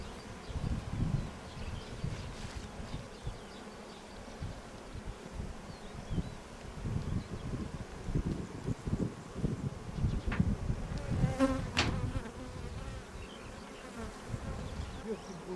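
Steady buzzing of many honeybees close by at a Kastamonu apiary, a continuous droning hum with a few louder passes of individual bees near the listener.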